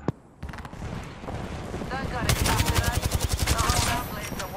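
Rapid automatic gunfire in Apex Legends, a sharp single shot followed by bursts that build into a fast, steady stream of loud close-up shots, with a voice over the top.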